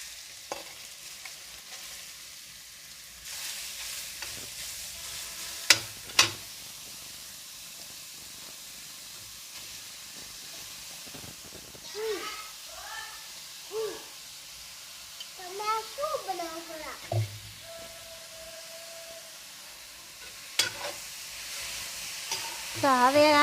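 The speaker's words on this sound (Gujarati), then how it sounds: "તો હવે આપણે તેને ઘીમાં શેકાવા દેશું એકદમ, અને હલાવતા રહેશું જેથી ગાજર તળિયે ચોંટી ના જાય" Grated carrots roasting in ghee and a little oil for carrot halwa, a soft steady sizzle under occasional scraping stirs and clinks, with a voice talking intermittently over it.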